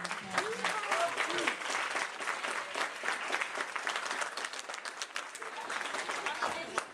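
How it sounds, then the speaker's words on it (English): An audience applauds a girls' varsity team that placed third in its district, with dense, sustained clapping of moderate loudness running for about seven seconds, and some voices mixed in. "let's give these girls a round of applause"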